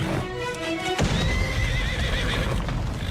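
A horse in the animated show Spirit Riding Free gives a loud, close whinny, followed by a noisy rush of hoofbeats and movement, with no voices.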